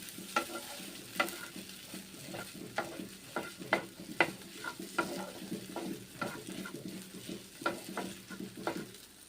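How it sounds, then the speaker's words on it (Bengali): Maggi noodles with green chillies cook in a pan, a soft sizzle under repeated light clinks and scrapes as they are stirred in an uneven rhythm, with no voices. "এইভাবে ম্যাগি রান্না করছি, দেখুন।"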